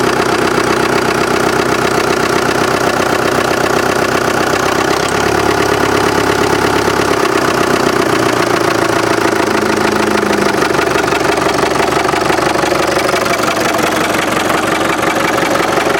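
The diesel engine of a 1965 International TD6 dozer, started after sitting for about a year, runs loud and close in a steady rough clatter. Its pitch and load shift midway as the throttle is raised, and no voices are heard.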